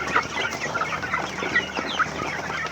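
Chickens clucking steadily at a farm, a dense, continuous flock chatter at moderate distance with scattered sharper calls and no talking.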